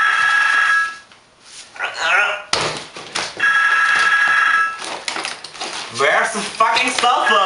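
A telephone rings in a bell-like tone in two long bursts with a short gap between them, while people talk and things clatter around it.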